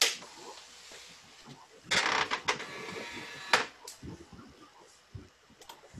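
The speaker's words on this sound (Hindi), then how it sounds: "ये डॉट मैट्रिक्स प्रिंटर है" An old dot matrix printer, of the kind found in medical stores, runs with buzzy mechanical printing bursts and clicking carriage movements, fairly faint and close, with no talking over it.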